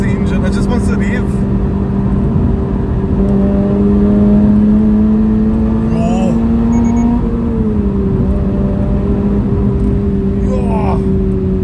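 A Toyota GR86 engine hums loudly and steadily from inside the cabin, its pitch slowly climbing and then easing off. A person talks over it throughout.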